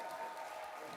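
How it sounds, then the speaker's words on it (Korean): An audience at a political talk concert claps warmly. The applause is a brief, dense, even patter that sounds moderately distant and fills the whole moment. "뜨거운 박수로 앉혀드리겠습니다."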